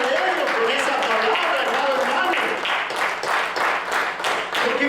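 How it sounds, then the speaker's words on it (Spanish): A church congregation breaks into sustained loud clapping and applause, dense and continuous with rhythmic beats, filling the room for several seconds. "¿Por qué no le das fuertes palmas?"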